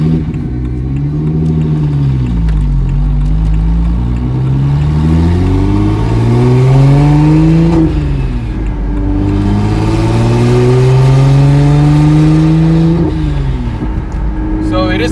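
A BMW 135i with an N54 engine converted to a single turbo, with a hood exit, drives and revs loudly, rising and falling through gears in long sweeping pulls with brief dips between shifts, close and dominant.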